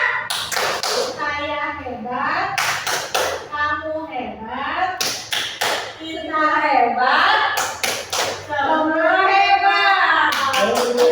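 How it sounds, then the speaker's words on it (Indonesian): Indonesian classroom pupils performing a rhythmic clapping chant, sharp bursts of group claps alternating with chanted children's voices in a repeating pattern, loud and close. "Tepuk hebat."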